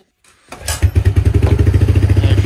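A Suzuki KingQuad ATV engine, choked and pull-started after a dead battery, catches after a brief pull and settles into a loud, close, rhythmic idle.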